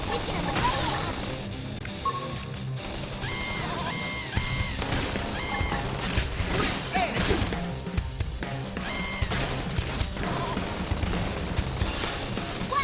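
Dense, busy combat from the video game Xenoblade Chronicles X, with repeated gunfire bursts, crashes and impacts layered over game music and effects throughout, steady and fairly loud.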